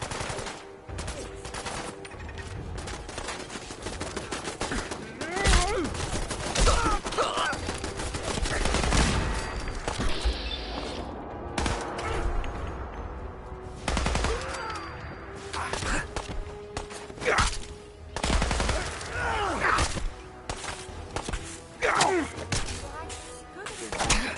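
Sustained gunfire in Fallout 4, with rapid bursts and single shots forming a continuous fusillade that runs throughout under shouted speech.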